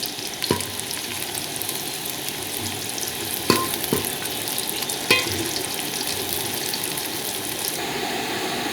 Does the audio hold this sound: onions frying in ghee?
yes